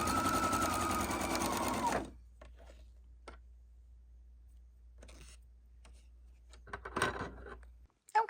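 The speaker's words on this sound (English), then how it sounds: "we've gone all the way around the bag with our stay stitch" A sewing machine runs a stay stitch around the edges of a tote bag, with a loud, steady motorized whirr for about two seconds, then stops, followed by faint ticks and small handling noises.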